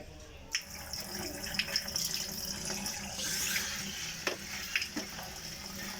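Tap water runs steadily into a container to be heated for coffee, a broad splashing hiss that swells and eases with a few sharp knocks of kitchenware, close by with no talking.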